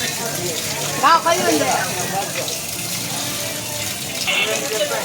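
Water gushes steadily from a powerful submersible pump at a bike wash service center among motorcycle garages, a continuous broad splashing rush heard close up, with brief voices talking over it.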